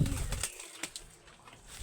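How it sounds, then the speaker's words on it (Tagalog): Pigeons feeding nearby, with a low cooing and soft rustling and pecking taps, faint and close with a short burst of fluttering at the start. "Yan sila mga kalapatid kumakain."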